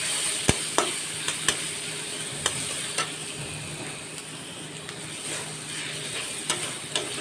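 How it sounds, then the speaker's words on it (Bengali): Garlic and onion sizzle steadily in a hot pan, with sharp utensil clicks against the metal scattered through the frying, close and alone without voices. "এবার পেঁয়াজটার সঙ্গে মিশিয়ে রসুনটাকে ভেজে নেব।"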